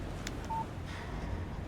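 A short electronic phone alert tone for an incoming text message in the video game Alan Wake, a brief clean beep over a low ambient game background hum.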